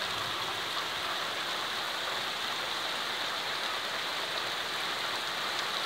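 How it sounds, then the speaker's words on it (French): Heavy rain pours down steadily during a moderate August thunderstorm in Montceau-les-Mines, Saône-et-Loire, a dense, even hiss with no thunder or voices, continuous throughout. "mais beaucoup de pluie quand même"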